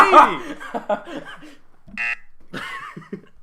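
A short electronic buzzer tone sounds once between bursts of podcast chatter and laughter, clear and fairly loud.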